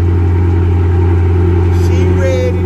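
A tuned Dodge Charger engine runs loud and close, with a steady deep drone and a faint rising rev near the end.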